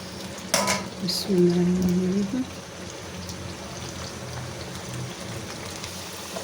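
Potatoes frying in hot oil over high heat give off a steady, even sizzling hiss throughout, with a short voice heard near the start.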